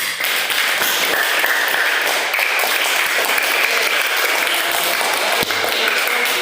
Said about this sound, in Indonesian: Jadi kita beri aplaus dulu untuk kelompok A dan kelompok B.